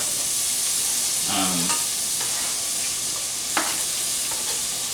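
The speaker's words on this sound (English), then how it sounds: "Onions ready here. I'm just going to throw these in." Onions hitting a pan of melted butter give a steady frying sizzle with stirring and a few brief scrapes and clatters, close and continuous with no talking.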